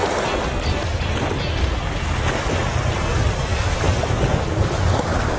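Wind buffets the microphone while waves wash along the sea shore during shore jigging for yellowtail, producing a loud, continuous, rough roar with no voices.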